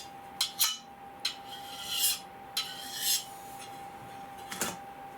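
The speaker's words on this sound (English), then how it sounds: "Again, we're going to remove the burr." A blade is drawn across a sharpening surface to remove the burr, making a series of close, short rasping strokes, several in quick pairs and a few longer drawn scrapes, over a faint steady hum.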